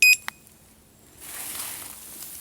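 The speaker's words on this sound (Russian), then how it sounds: "При включении один сигнал." A Fuji remote-controlled bicycle alarm mounted under the seat gives a single short electronic beep when switched on, followed by a faint click and low background hiss.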